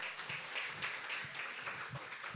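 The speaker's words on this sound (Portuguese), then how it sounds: "Obrigado, Lívia, salva de palmas para ela." Faint applause from a small crowd at a youth council session in a school, soft scattered clapping with slight swells, heard at a distance with no talking.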